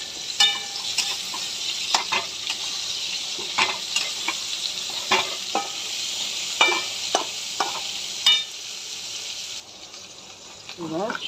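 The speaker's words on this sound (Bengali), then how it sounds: "নুন দিয়ে নাড়বো, একটু ভালো করে ভাজা হয়ে গেলে সবজিগুলো দিয়ে দেবো" Vegetables frying in a pan with salt and green chilli, stirred with repeated scraping strokes over a steady close sizzle, with occasional water or tap sounds near the end.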